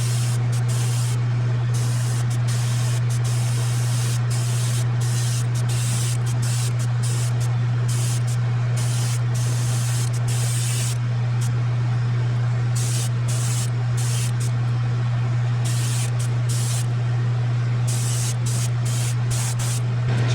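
An airbrush sprays paint onto a fishing lure at high PSI, a steady close hiss in short repeated bursts over a constant low hum from the compressor.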